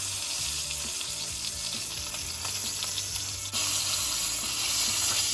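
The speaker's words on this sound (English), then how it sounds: "Now we're gonna move the steak around just so we can use the hottest part of the skillet." A ribeye steak sears in a hot skillet, giving a loud continuous sizzle and crackle that swells and stays dense throughout, with a shift midway as the meat is moved and no voices.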